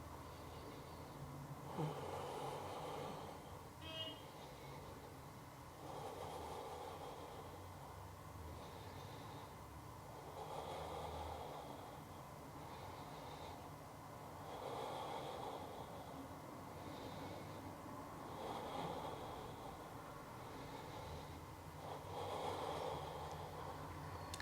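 Slow, steady breathing held in a yoga crow arm balance, each soft breath swelling and fading roughly every four to five seconds, faint and close, with no talking.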